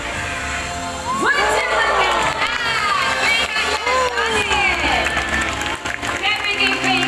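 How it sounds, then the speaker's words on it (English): A crowd at a bird show at Jurong Bird Park in Singapore cheers, whoops and applauds for a bird named Vega, with children's shouts rising above the steady clapping and bursts of excitement. "can we give Vega another round of applause, everyone?"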